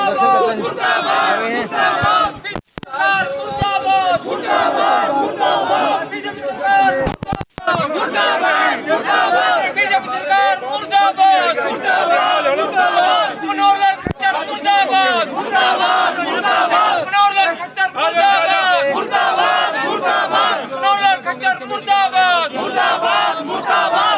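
Street protest crowd in Karnal, Haryana, with opposition workers chanting slogans against inflation in loud, rhythmic unison, repeated chant phrases rolling on continuously with scattered sharp bangs.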